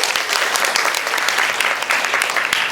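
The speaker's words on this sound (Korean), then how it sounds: "이럴 때 박수도 치고." An audience at a special lecture breaks into a brief, lively round of clapping, close and loud, with many overlapping hand claps.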